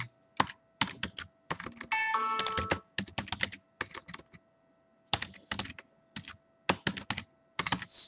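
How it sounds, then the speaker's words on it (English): Bursts of computer keyboard typing come close and clear, filling in a property manager account form, with short pauses between runs of keystrokes and a brief chime partway through. "I'm typing."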